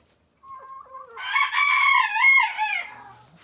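Backyard chickens in a small flock heard close up: a few soft clucks, then a loud drawn-out rooster-style crow that falls away at the end, with no talking.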